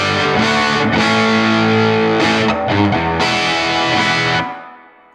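A distorted electric guitar, a Collings 290 through a Silktone amp with the tone stack bypassed, strums sustained, raw chords, ringing loudly and continuously before the last chord fades out.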